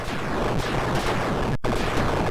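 Fast, relentless rapid-fire shooting from the arcade game Tempest, a dense stream of blasts and booms with one brief cutout partway through.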